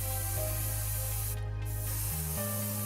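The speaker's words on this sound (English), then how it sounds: "Simply apply an even wet layer of the primer with your airbrush." An airbrush sprays VMS No-Peel primer onto a scale model, a steady close hiss that runs the whole time over a low electrical hum.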